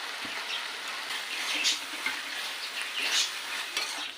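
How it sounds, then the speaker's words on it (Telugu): Masala spices frying in hot oil with turmeric for a brinjal chicken gravy curry, a steady close sizzle with spatula scrapes and stirring clinks against the pan throughout. "ఈ మసాలాని ఫ్రై చేసుకున్నాము ఇలా మంచిగా మసాలా ఫ్రై అవుతుంది కదండి"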